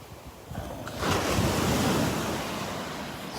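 Surf at Delnor-Wiggins beach washes in over steady wind noise on the microphone, a wave swelling and breaking near the one-second mark and then hissing on without talk.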